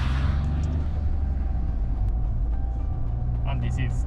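A Toyota Corolla Cross H2 Concept with a hydrogen-fueled combustion engine hums with a steady, low engine rumble at the Fuji WEC circuit, with people talking over it.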